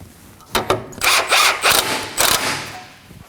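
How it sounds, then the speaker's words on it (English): A ratchet with a 22mm socket snugging up the tie-rod nut on a 2014-2020 Acura MDX steering rack during bellows replacement, a few short ratcheting bursts, close and fairly loud, no speech. "Now we're gonna snug it up using a 22mm socket."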